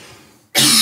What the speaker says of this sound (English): You made me cough, dude.